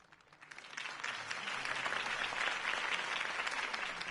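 Crowd applause for Harvey Dent's campaign speech in Telltale's Batman game, a dense, steady wash of clapping that swells within the first second and holds evenly to the end.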